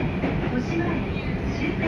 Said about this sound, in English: This train goes direct to Toshimaen.